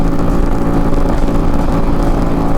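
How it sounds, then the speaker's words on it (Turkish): A Musatti Dark Pow 250 V-twin chopper motorcycle runs at full throttle in sixth gear, giving a loud, steady, rough engine roar that holds for the whole span with no talking. "Şöyle gazı sonuna kadar açtım. 6. vites."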